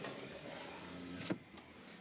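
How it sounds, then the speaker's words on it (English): The power sliding rear window of a 2013 Ram 1500 Sport Crew Cab runs as a quiet electric motor whir inside the cab, ending in a soft thump near the end, with faint hum around it. "The truck also has a power sliding rear window."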